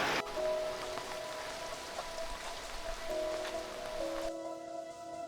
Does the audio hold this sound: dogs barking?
no